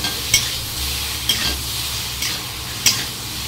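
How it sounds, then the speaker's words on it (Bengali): Ridge gourd seasoned with salt and turmeric fries lightly in a pan, a constant close sizzle broken by four crisp spatula scrapes spaced about a second apart. "ঝিঙাগুলোকে হালকা ভেজে নেব"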